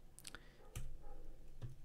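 Mouse clicks on a button in the Scrivener app on a Mac computer, a few sharp, close clicks spaced apart over a quiet background.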